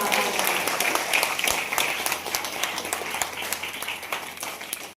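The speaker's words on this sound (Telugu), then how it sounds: "చప్పట్లు కొట్టు దైవజనుడు" An audience at a Christmas church gathering claps together in a dense, steady burst of applause that holds for several seconds, then cuts off abruptly.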